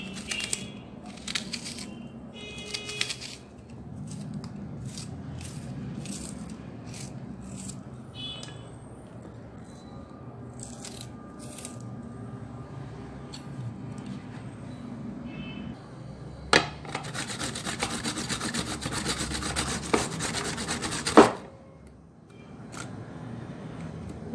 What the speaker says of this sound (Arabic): بحب دايما ابشر الجزر في السلطه